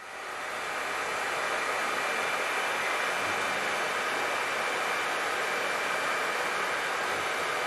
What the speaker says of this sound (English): The plastic sleeve which seals it is shrunk by means of a simple hairdryer.